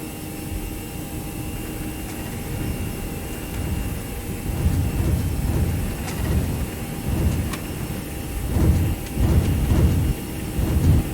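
Airbus A319 jet engines spooling up for takeoff in a flight simulator, a steady broad roar with low rumbling that grows louder and surges in pulses toward the end.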